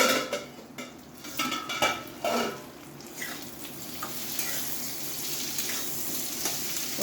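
Pointed gourd (potol) frying in a pan gives a steady crackling sizzle, broken by several sharp clinks and scrapes of a utensil stirring against the pan early on, then settling into continuous frying.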